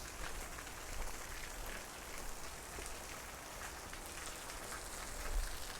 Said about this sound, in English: I think another heavy rain's coming in. I can hear it coming.